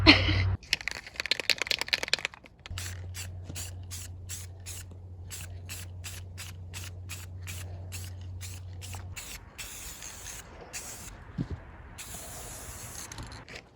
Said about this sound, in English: we're gonna get ready for some spray paint